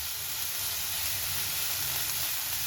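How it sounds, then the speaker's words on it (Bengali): Chopped onion frying in a pan for a prawn curry, a steady, even sizzle with a bright hiss that holds at a moderate level throughout. "পেঁয়াজটাকে লাল লাল করে ভেজে নিয়েছি।"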